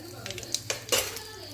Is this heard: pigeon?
no